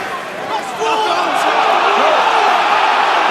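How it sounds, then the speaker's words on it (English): A rugby home crowd at Northampton against Scarlets roars in disapproval after a referee's call, a broad swelling wall of voices that rises sharply partway through and holds, with commentary spoken over it. "The crowd, the home crowd, don't like that."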